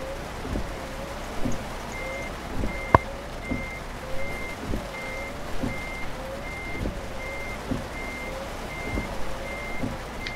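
Reversing beeps from a truck in the Euro Truck Simulator 2 game repeat at a steady rhythm, backing into an alley dock over a low engine rumble and faint rain-like hiss, with no voices.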